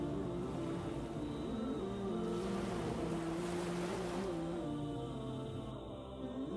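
Calm sea waves washing onto a beach at Banshkhali with a cool breeze, a steady continuous wash that swells in the middle and holds at an even level with no voices.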